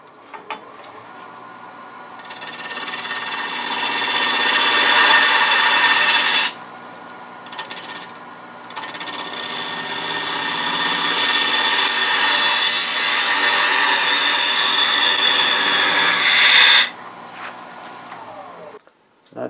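A wood lathe turns a Norfolk Island pine piece while a tool cuts in, giving a loud bright rasping hiss in two long passes separated by a short pause, with a faint steady hum beneath.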